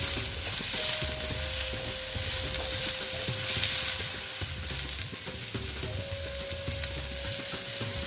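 Onions and tomatoes sizzling in a pan for Afghani egg curry while a utensil stirs them, a steady crackling fry with repeated scraping strokes throughout, close and moderately loud with no voices.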